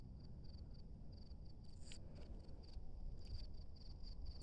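Quiet outdoor chirping of a mole cricket, a faint repeated high trill in short bursts over a low background hum, heard close and alone.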